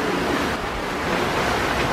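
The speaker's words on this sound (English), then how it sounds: "There's some big waves coming up behind us." Broadband rushing water and wind noise fill the scene steadily, like big ocean waves surging and churning up behind a moving sailboat on the Atlantic.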